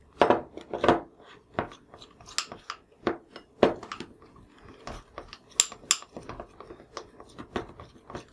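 A utensil clinks and scrapes against a bowl while food colouring is stirred into icing, making irregular light taps and clicks that come close together, with no talk.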